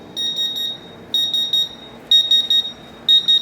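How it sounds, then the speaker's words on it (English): A high-pitched electronic buzzer on a CW-3000 industrial water chiller sounds its low-water alarm, beeping in repeated bursts of three or four short tones, each group about a second apart, over a low background hum. "after filling water, the buzzer will get stopped"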